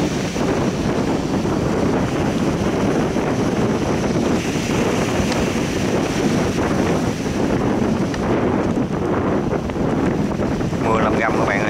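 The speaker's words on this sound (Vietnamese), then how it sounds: "Gió thì cũng mạnh nha, sóng này cũng lăn tăn như thế này đây." Strong wind roars over a fishing boat at sea during a storm, with waves washing steadily beneath it, all loud, constant and close to the microphone without a break.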